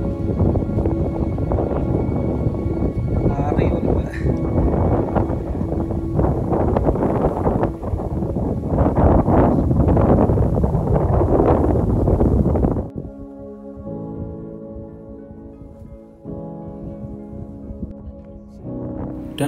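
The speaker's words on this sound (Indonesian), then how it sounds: "disertai dengan angin yang cukup kencang" Strong wind on a Mount Merbabu trail roars and buffets loudly against the microphone for about thirteen seconds, then drops away to a much quieter background.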